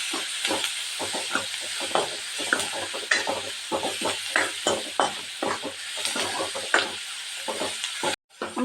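Onions frying in oil in a pan for a dried fish curry, with a bright sizzle and hiss under a brisk, regular scraping of a spoon stirring them, close up and with no talking.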